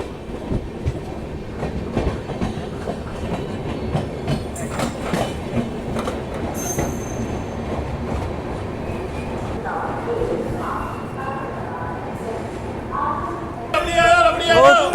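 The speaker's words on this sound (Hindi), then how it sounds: "यहाँ पर देखते हैं कितनी देर ट्रेन रुकती है और फिर डिपार्चर लेते हैं पालनपुर से भी।" Ashram Express train at Palanpur station in India, departing with a steady rumble of rolling rail cars and wheel clatter, someone talking over it, and a brief squeal or horn-like tone near the end.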